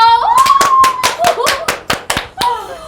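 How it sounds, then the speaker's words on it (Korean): A short round of clapping for a teacher on a Korean television program, about a dozen quick, sharp claps close by, with a voice calling out over the start. "선생님 박수 한번 주세요"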